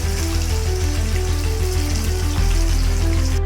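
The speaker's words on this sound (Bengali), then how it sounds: "পেঁয়াজগুলো একটুখানি ভাজা ভাজা করে নিতে হবে।" Onions frying in oil in a wok for chicken curry hiss and sizzle loudly and continuously up close, a bright crackling wash that swells slightly near the end, with no voices.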